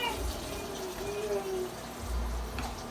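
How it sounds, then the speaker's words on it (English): Water runs steadily from a kitchen tap while food is rinsed under it, a close, continuous splashing wash with a person talking faintly over it. "Let me give this a little extra rinse."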